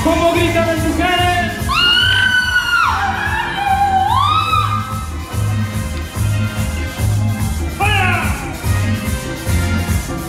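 A crowd of women at a large festive Latin party event shouts and cheers loudly over pounding music, with rising whoops and yells in bursts.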